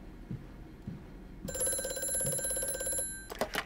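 A telephone rings in the video game Amnesia, a bright, sustained electronic trill that sounds for about a second and a half over quiet ambience, then a short second burst begins at the end.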